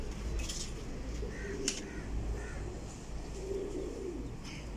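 Racing pigeons coo softly in low, repeated murmurs amid a busy outdoor background, with occasional brief bird chirps.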